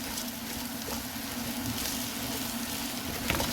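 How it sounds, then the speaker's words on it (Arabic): Onions sauté in a pan with freshly washed ingredients added for Alexandrian yellow koshari, giving a steady, close sizzle and hiss that runs throughout with no talk. "وهشوح مع البصله، خليها تاخد يمتزجوا كده ببعضيهم"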